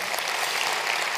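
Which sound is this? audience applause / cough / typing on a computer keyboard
audience applause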